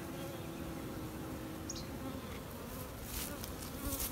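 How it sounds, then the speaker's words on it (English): Honey bees buzz steadily around a bee box, a dense, continuous outdoor hum with no talking, one brief higher chirp partway through. "box of bees. Isn't that just a beautiful sight?"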